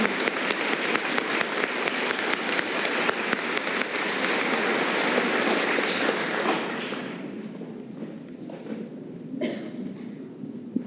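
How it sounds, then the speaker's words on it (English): An audience at a fifth grade moving-up ceremony applauds the school's music department with a long, dense wash of clapping that holds strong for several seconds, then thins into scattered claps as it fades. "So I think they deserve another round of applause."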